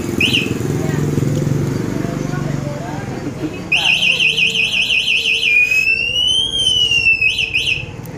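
The anti-theft alarm of a Vespa T3 electric scooter is set off by shaking the scooter: a loud, close electronic siren of rapidly warbling beeps, then a rising and falling whoop, over background noise and some talk.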